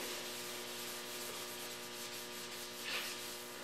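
Sandpaper scrubs primer on a plastic bumper cover in a continuous, close, rough rasping stroke that barely lets up, with no speech.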